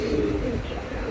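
A pigeon, one of a group of racing pigeons for sale, gives a short, close, throaty coo under quiet background voices.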